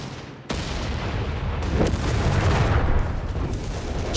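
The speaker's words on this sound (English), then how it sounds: "a massive slam there from the 150mm gun on the Sturm Panzer IV" A 150mm gun on a Sturm Panzer IV fires in a Company of Heroes 3 match, a sudden heavy boom followed by a dense, rumbling roar of battle that stays loud throughout.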